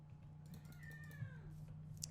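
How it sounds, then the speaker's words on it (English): A pet cat meows in a long, drawn-out wail, clear and fairly close, over a steady low electrical hum, with a couple of faint clicks from a computer keyboard toward the end. "And now my cat's meowing like a fiend."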